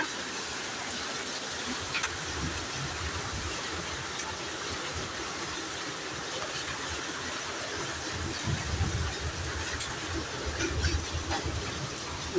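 Hailstones fall in a heavy storm, making a steady, dense wash of pelting noise that stays loud and even from start to finish, with no voices.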